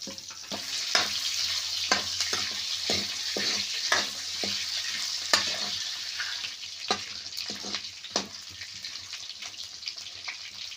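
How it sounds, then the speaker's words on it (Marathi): Vegetables sautéing in hot oil for a dried bombil fish dish give a bright, steady sizzle up close, punctuated by regular scraping and tapping from a stirring spoon, with no talking. "आता थोडे वेळ परतून घ्यायचे तेलात चांगले"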